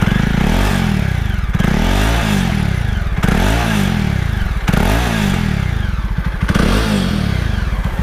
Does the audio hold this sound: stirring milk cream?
no